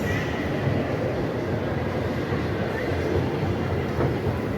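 A children's ride train runs inside a shopping mall in Guwahati, a steady rumbling clatter with faint rhythmic clicking, continuous and moderately loud over a busy indoor background.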